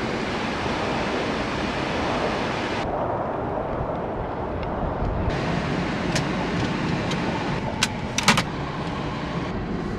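Strong wind roars in a steady, dense rush with blowing snow on a cold winter day in Wyoming, dropping briefly then gusting back, with a few faint clicks and rattles near the end.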